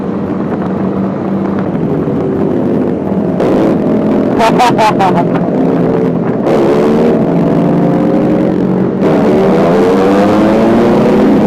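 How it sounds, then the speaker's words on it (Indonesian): Motorcycles rev and accelerate in Jakarta traffic, rising and falling whines from several passing vehicles, with a loud steady road roar throughout. "Wah, semua pada narik gas."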